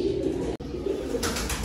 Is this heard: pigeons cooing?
yes